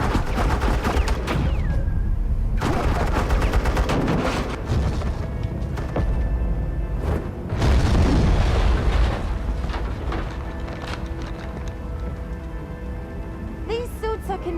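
Suppressing gunfire in a Batman Telltale video game, with repeated loud bursts of rapid shots and sharp impacts over a busy action soundscape, broken by brief gaps and layered with other game effects.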